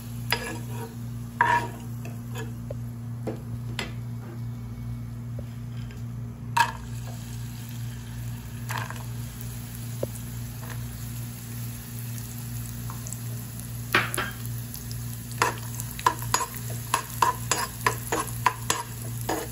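Raisins frying in a pan and stirred for sakkarai pongal, a steady close hiss and crackle under a constant low hum, with scattered scrapes and clinks of a spoon against the pan, no talking.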